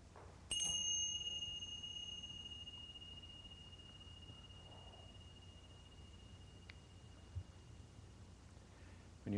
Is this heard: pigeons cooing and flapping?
no